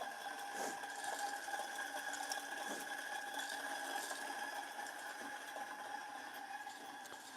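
Coffee grinder fitted with a slow feeder, run as a 078 model, whirring steadily with a continuous mechanical rattle and faint clicks, moderately quiet and without talk.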